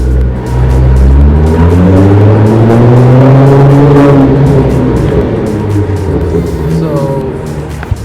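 Modified, souped-up Nissan GTR engine revving hard while driving downtown between buildings, a loud, close, sustained roar with rising and falling pitch sweeps over about eight seconds, no talking.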